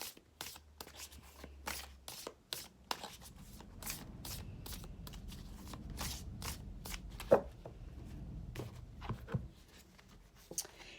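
Tarot cards are shuffled and drawn by hand for a Capricorn reading, a rapid series of crisp flicks and slaps close up, with soft rustling between them and no talk.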